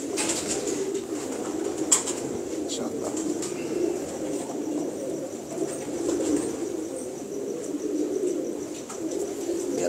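Black-white pigeons, a Rampuri crossbreed, coo softly and continuously in a loft, a low steady murmur with faint wing flutters and brief chirps over a constant background.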